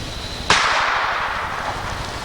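A single sharp crack from a small gun fired at an orange juice bottle outdoors, loud and close, its noisy tail fading over a couple of seconds with no talk.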